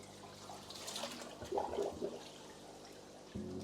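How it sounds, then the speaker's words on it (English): Aquarium water draining through a siphon, a soft gurgling trickle that swells into a burst of bubbling flow midway, then a low steady rush, faint and close. "The water is now draining this aquarium"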